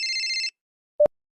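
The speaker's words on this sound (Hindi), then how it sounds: "फोन बजता है।" A telephone bell gives one short, bright ring, then a pause follows, then a brief sharp click or tone. The sound is clear and close, with no talking.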